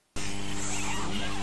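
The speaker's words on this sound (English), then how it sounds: "Kill the bee!" A bee buzzing close by, a loud steady drone with a strong harmonic hum that starts abruptly after a brief silence and holds unbroken to the end.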